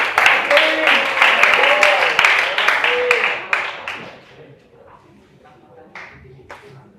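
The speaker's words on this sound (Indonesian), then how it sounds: "Tepuk tangan dulu buat teman kalian." Students in a digital systems tutoring class clap for a classmate, a brisk round of close applause lasting a few seconds before fading into quiet, with a brief voice and a couple of stray claps after.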